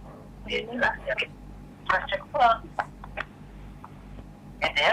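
An incoming live telephone call on a radio talk show, with thin, phone-line voices coming through in short bursts and pauses. A steady low hum runs underneath.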